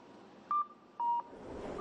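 Two short electronic signal beeps ring out at a busy city crosswalk, each about a fifth of a second long, over a low steady hum of street noise.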